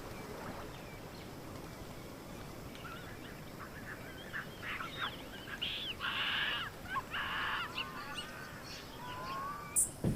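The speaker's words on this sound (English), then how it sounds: "In Chobe National Park, you'll also find the Blacksmith lapwing." A Blacksmith lapwing in Chobe National Park calls from open bush: a few short, bright, metallic notes bunched in the middle, some distance off over a steady low outdoor rumble.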